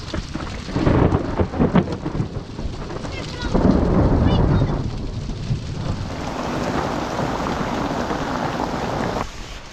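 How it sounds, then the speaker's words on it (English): Heavy rain pours steadily while deep thunder rumbles and rolls loudly, swelling and fading across the storm, heard from a boat at anchor off Fornells, with no talking. "Thunder's back."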